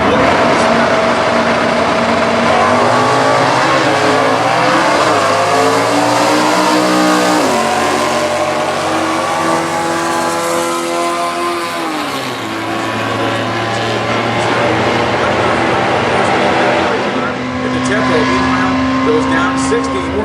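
A 1969 Chevrolet Camaro 396 with a four-speed, racing in Stock Eliminator drag qualifying, roars hard as it accelerates, its loud engine note climbing through the gears over about twenty seconds with brief dips at the shifts.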